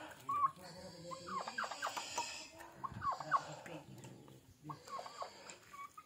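Rhode Island Red chickens cluck and squawk in short bursts around a farmyard, with a brief voice and rustling in the background.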